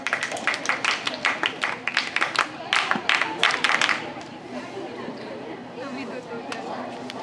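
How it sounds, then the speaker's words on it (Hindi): An audience at a women's college guiding camp gives a loud burst of clapping for a performing team, dense and close for a few seconds before fading into murmuring chatter and a voice. "एक बार जोरदार तालियां हो जाएं इस टीम के लिए।"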